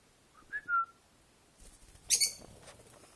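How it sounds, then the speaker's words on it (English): A pet bird gives two short, clear whistles close by, then a brief burst of sharp, high chirps. "He's not a very friendly bird."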